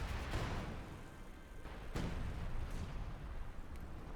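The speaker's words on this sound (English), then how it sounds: "A lot of artillery fire there from Jove." Artillery shelling in a Company of Heroes 2 match, a dense low rumble of distant blasts with a couple of sharper booms standing out, steady battle noise throughout.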